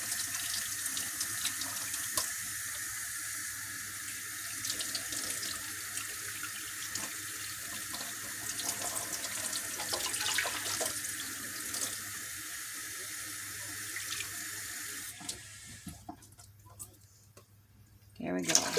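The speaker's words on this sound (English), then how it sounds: "Okay, now I'm going to add 2 cups of warm water." A kitchen tap runs warm water into a measuring cup, a steady close hiss and splash that goes on without a break and then stops, with light clinks at the end.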